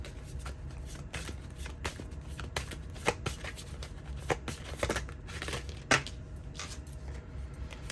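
Oracle cards being shuffled by hand in a quiet room: a steady run of soft riffling and flicking, with a few sharper card snaps standing out along the way.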